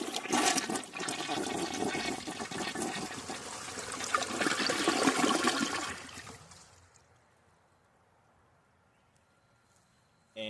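A 1995 Mansfield Alto toilet flushing with a clogged siphon jet: a loud, rushing flush lasts about six seconds, then fades to a faint trickle and near silence.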